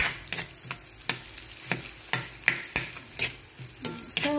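Onions sautéing in a pan, with a continuous sizzle broken by regular, sharp utensil strokes against the pan roughly every half second.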